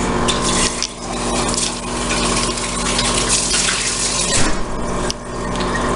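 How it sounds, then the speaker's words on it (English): Tap water runs loud and steady into a kitchen sink while a can is rinsed out, a continuous close gush with small splashing shifts throughout. "I'm going to wash out the can so that we can recycle it"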